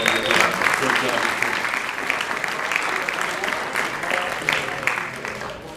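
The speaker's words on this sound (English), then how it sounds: "You want to give yourself a round of applause." A room full of people at a 2023 sports team awards ceremony claps in a warm, steady round of applause, strongest at the start and easing slightly toward the end.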